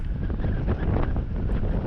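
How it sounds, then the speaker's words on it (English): Strong wind roars steadily across an exposed stretch with no tree cover, a loud continuous buffeting rush with gusty swells and no voices. "And the wind gets worse here because,"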